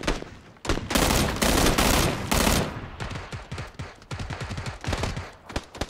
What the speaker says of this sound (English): There was a guy shooting.